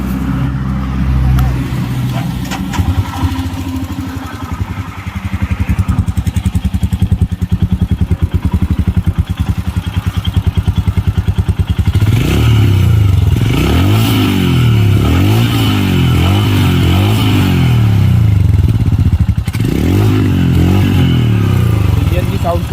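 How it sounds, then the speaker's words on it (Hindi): A Royal Enfield Himalayan motorcycle engine starts, settles into a thumping idle, then revs up and down through its exhaust in several loud, close blips, with someone talking over the opening seconds. "इंजन की साउंड सुन लीजिए।"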